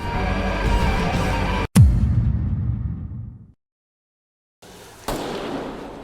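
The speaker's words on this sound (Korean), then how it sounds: "칼이 쏜 총소리를 들은 워커들" A single sharp gunshot in a TV drama cracks out and rings off into a fading rumble, then silence, followed by another abrupt burst of sound.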